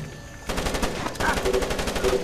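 Rapid, repeated cannon-like blasts fire in a steady volley over background game noise in Splinter Cell Pandora Tomorrow, loud and continuous.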